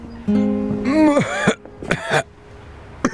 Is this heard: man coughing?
yes